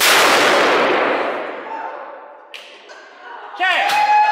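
An 1800 volt high-voltage discharge fires with a loud sharp crack that decays into a hiss, followed by smaller snaps and a ringing, whistling tone near the end.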